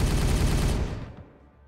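Rapid automatic gunfire in the Warhammer 40K Regicide video game, a dense loud burst of rattling shots that cuts off and fades away within under two seconds.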